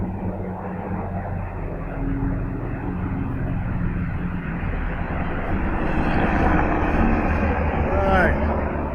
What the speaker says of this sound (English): The helicopters are after me.